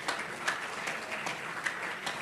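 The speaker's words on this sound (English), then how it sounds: "let's give them a big round of applause" A room of Rotary club members at a meeting applauds to welcome visiting guests, a steady patter of many hands clapping at moderate volume for a couple of seconds, with a few sharper claps standing out.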